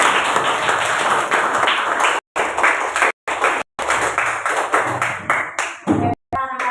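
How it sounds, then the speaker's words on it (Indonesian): Children in a classroom clap together at a teacher's request, a lively burst of many hands with brief sharp cutoffs between rounds. Some voices mix in near the end. "Oke, tepuk tangan sekali lagi."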